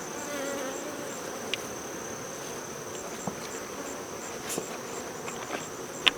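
Honey bees buzz steadily at an Apimaye hive during feeding, a constant close hum with a few faint clicks and taps.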